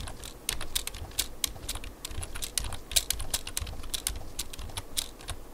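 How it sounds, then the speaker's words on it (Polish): A computer keyboard is tapped rapidly while playing the Kogama parkour game, with quick clicky keystrokes including the space bar in an irregular, continuous patter, close but faint over a low background hum. "kiedy ja klikam spację?"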